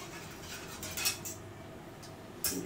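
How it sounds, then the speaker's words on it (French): Butter being stirred with a small stick in a pan over medium heat while making a lemon meringue tart, giving a few light scraping clicks against a faint background hiss, with no talking. "il faut remuer pour faire fondre le beurre"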